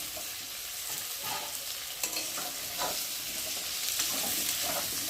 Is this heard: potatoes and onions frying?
yes